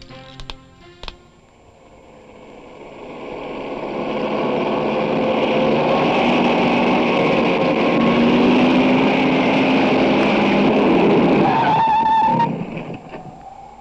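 A car approaches, its engine swelling to a loud, sustained drive, then brakes hard with a skidding screech and comes to a stop, followed by quiet.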